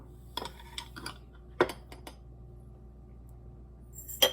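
A tablespoon scoops chia seeds, giving a few faint, sparse clinks and taps of metal against a container in a quiet room.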